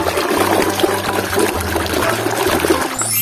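Toys being washed in a container of clean water, a steady close sloshing and splashing that continues without pause.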